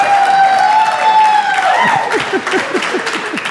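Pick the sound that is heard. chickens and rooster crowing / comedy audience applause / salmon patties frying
comedy audience applause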